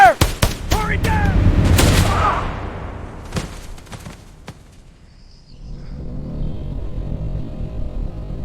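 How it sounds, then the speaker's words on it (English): Troops fire guns in rapid, loud bursts of overlapping shots that echo and fade into scattered distant reports and rumbling, with voices shouting over the opening. "Troops open fire!"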